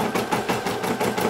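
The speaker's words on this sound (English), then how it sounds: "how to turn the embroidery machine back into a sewing machine" A Brother SE1900 embroidery machine stitching a design directly onto a onesie, giving a steady, rapid mechanical chatter with an even pulsing rhythm, close up and fairly loud, with no talking.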